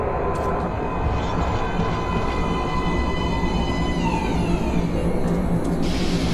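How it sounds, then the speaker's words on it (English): A metro train pulls into an underground platform in the Metro: Last Light video game, with a loud, steady rolling rumble overlaid by thin, high screeching whines that bend in pitch as it arrives. "Please step away from the edge of the platform. Train coming in."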